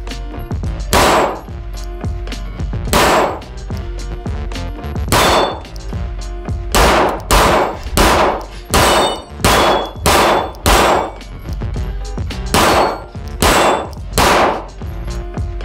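A Polymer80 pistol is fired at a steel dueling tree 10 yards away. Loud, close shots ring out one after another, each followed by a metallic clang from the plates, at an irregular pace with short pauses between strings.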